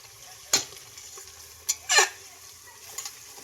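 Onions frying in a pan for mutton biryani, a soft low sizzle broken by three or four sharp scrapes and clatters of a spatula against the pan, with no one talking.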